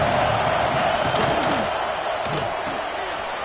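Stadium crowd at an SMU college football game roars steadily as a loud, continuous wash of noise, with a few sharp slams and shouts rising out of it.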